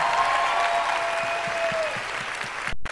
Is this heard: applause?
yes